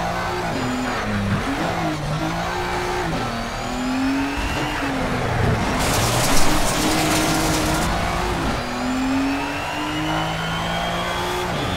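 Race car engine in the Shift 2 Unleashed driving game revs loudly and steadily, with the pitch rising and falling through repeated gear changes, plus a brief harsh burst of noise midway and no speech.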